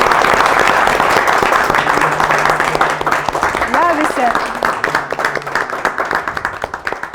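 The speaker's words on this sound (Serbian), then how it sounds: "ja bih voljela jedan aplauz za nju" A school audience at a Saint Sava celebration in Novi Sad claps steadily in sustained applause, loud at first and gradually thinning out toward the end.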